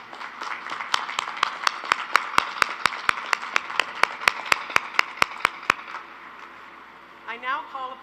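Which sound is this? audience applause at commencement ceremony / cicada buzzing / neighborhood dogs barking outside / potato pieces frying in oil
audience applause at commencement ceremony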